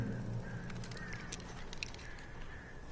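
Crows caw in a harsh flock during a horror game set in a dark forest, scattered rasping calls overlapping at middle distance over a steady low rumble, with no talking.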